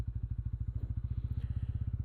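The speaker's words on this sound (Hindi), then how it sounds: "ऑटोमेटिकली बाइक ने आरपीएम इंक्रीज़ किया।" A 2026 Bajaj Pulsar N160 motorcycle sits in first gear with no throttle, its engine idling in a close, steady thumping beat as the revs rise slightly on their own.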